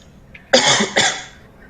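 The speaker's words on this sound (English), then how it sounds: "No coughing. You don't cough." Two sharp coughs in quick succession, close and clear against a quiet background.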